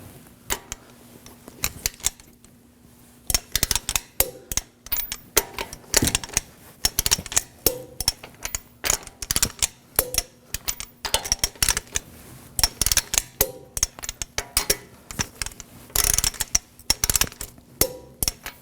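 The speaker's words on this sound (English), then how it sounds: "Now we're going to torque our wheel down to 80 foot-pounds on a star pattern." A torque wrench tightening the wheel lug nuts on a 2014-2020 Acura MDX during a front brake job gives a long series of sharp, close clicks and ratcheting taps in irregular bursts.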